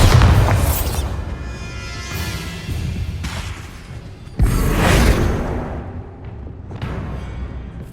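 Bombarda spell blasts in Hogwarts Legacy, two heavy booming explosions with whooshing tails, one at the start and a sharper one midway, fading between.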